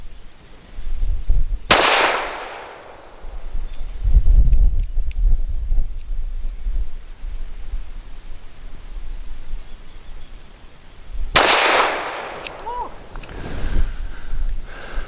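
Two sharp, loud gunshots from an SCCY CPX-2 pistol firing Remington Golden Saber 147-grain rounds, spaced about ten seconds apart outdoors, each with a ringing decay, with some background rustle and muffled voice between.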